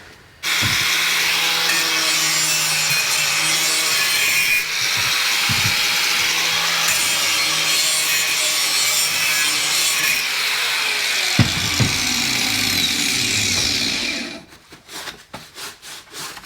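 A piece of foam is cut for a Jeep XJ in one long continuous sawing, rubbing pass of about fourteen seconds, close and fairly loud, ending in a few scattered knocks and handling sounds.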